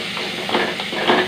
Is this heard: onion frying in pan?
yes